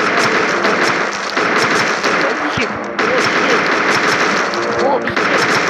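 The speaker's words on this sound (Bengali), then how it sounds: "এই যে গ্র্যানি শটগান, তো এই মারছি" Rapid, loud shotgun blasts from the Granny shotgun in a modded Free Fire mobile game, fired in quick repeated bursts with brief pauses, dense and close over game noise.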